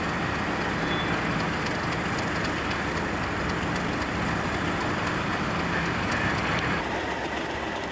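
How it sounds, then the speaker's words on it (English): Two Class 37 diesel locomotives idle with an iron ore train being loaded from an overhead bunker at Immingham, a steady broad rumble of engines and pouring ore holding even throughout, with faint metallic clanks and no voices. "a train hauled by 2 Class 37 locomotives was being loaded up with iron ore from the overhead bunker"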